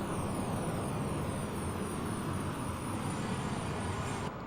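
Steady, loud roar of the twin jet engines of a Learjet 35A in Microsoft Flight Simulator 2024, heard from inside the aircraft in flight over the ocean, a continuous broadband rush with a faint high whine and no voices.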